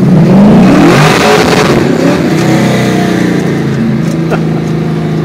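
A car fitted with a TMP venturiless carburetor cruises steadily in third gear at around 2000 to 1800 RPM, its engine droning loud and close with a slight early rise, under continuous road and cabin noise.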